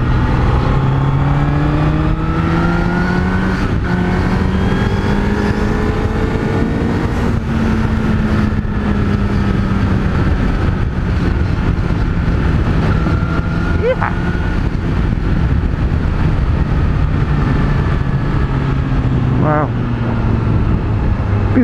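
Honda CBR1000RR Fireblade motorcycle engine riding slowly in traffic, a steady droning hum with gently rising and falling pitch, mixed with heavy wind rush, and someone speaking over it.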